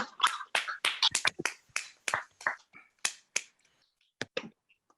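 Scattered claps from a handful of unmuted participants on an online video call, applauding readers at a university MFA writing reading series. The claps come as sharp, uneven bursts over about five seconds and thin out toward the end.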